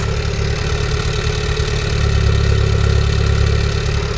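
A Ford Cortina Mk3 with its original carburettor idles steadily at the rear, its exhaust giving a loud, even low rumble that swells slightly midway, with no talking.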